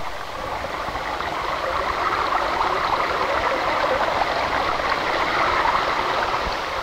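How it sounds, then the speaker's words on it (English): Glacial meltwater stream flowing steadily down a glacier, a continuous broad rushing and gurgling wash of water that stays loud and even throughout, with no voices. "This water flows down the glacier and plays a part in shaping the land."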